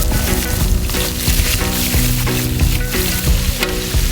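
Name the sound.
frying chicharrones (pork rinds) in a pan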